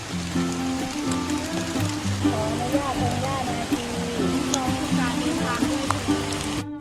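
A large waterfall on a multi-tier cascade near a cave trail rushes in a steady broad wash of water, heard under someone narrating throughout.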